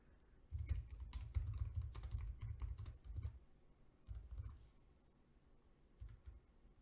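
Keys are typed on a computer keyboard in quick irregular bursts of soft, close clicks, with short pauses between runs of keystrokes and no voices.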